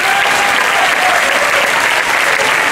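Steady, loud applause from an audience at a fashion event speech in Africa Fashion UP, a dense continuous clapping that holds evenly throughout with no pauses.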